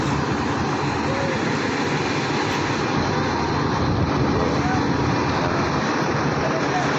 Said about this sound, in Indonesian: Bis di parkiran Jabal Uhud.